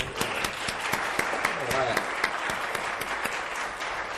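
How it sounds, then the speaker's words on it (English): Clapping from an audience at a college award presentation during a Hispanic Heritage Month event, a dense, steady roomful of applause held at even loudness across the whole stretch. "Round of applause."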